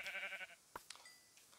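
Sheep in Minecraft give a faint wavering bleat for about half a second, followed by a few soft clicks and taps in an otherwise quiet game scene with no speech.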